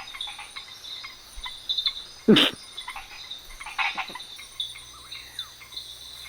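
Tree frog calling at night in a Costa Rican jungle, thin high-pitched chirps rising over a steady insect and cricket chorus, with one louder, closer burst midway.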